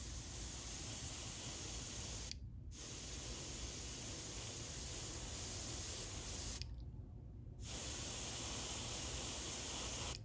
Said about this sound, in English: I'm just gonna go ahead and spray it.